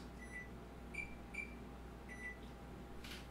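An oven timer is set while baking baguettes at home, giving several short, faint electronic beeps in an irregular sequence over a quiet kitchen hum.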